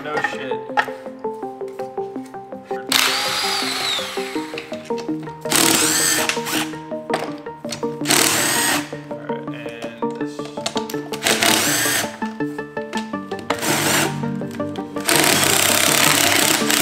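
A power tool pulls the bolts out of a Honda transmission case: loud, close bursts of whirring and rattling come in repeated spells, with voices talking in the gaps between them.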